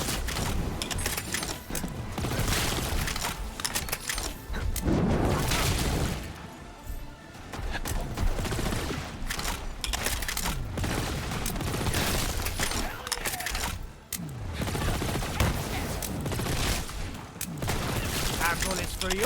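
Rapid bursts of gunfire from the video game Borderlands 3 run through a chaotic firefight, dense and fairly loud, with someone talking over much of it.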